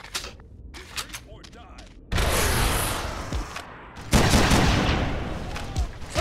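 Video game combat with gunfire and rocket launchers: a few sparse shots and clatter, then two sudden loud bursts of dense, roaring fire and explosions that sustain and fade unevenly.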